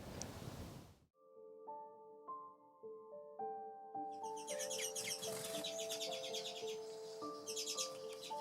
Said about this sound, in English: It's a wee bird called a twite.